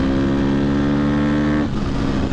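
A 2023 KTM 250 XC-F dirt bike rolling on the throttle on a street, its engine note rising loudly and close before easing off, with rushing wind noise taking over toward the end.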